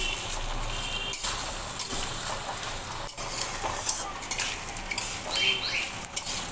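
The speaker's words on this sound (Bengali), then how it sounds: "চালটা দিয়ে খুব ভালো করে ঘিয়ের সঙ্গে মিশিয়ে নেব।" Raw rice is stirred with ghee in a hot pan, giving a continuous dry sizzle with repeated spatula scrapes against the metal and a few sharp knocks, close and fairly loud throughout.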